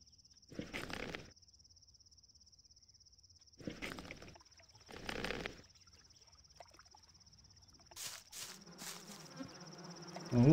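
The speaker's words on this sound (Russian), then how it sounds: "Так, мухи." Flies buzz in the Gothic video game in a few separate short bursts over a faint steady tonal game hum, with scattered clicks and another rising sound near the end.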